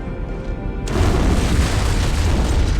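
An antimatter charge explodes in the Halo: Combat Evolved video game, a sudden loud boom that bursts in and then rumbles on as a dense, sustained roar.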